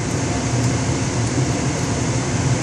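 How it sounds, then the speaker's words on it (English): A gas furnace blower runs steadily after a pressure switch replacement, giving a continuous, even whoosh of moving air with a low hum, close by and alone. "blower's running, everything's working fine"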